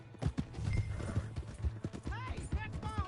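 Horse hooves clip-clop in a Western video game while a horse whinnies and voices talk over the hoofbeats, with steady close trotting throughout.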